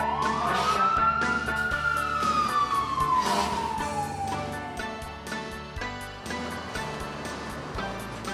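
A fire engine siren wails in one long rising and falling sweep, loud and close at first, then fading slightly as it trails off over a low rumble of vehicle and engine noise.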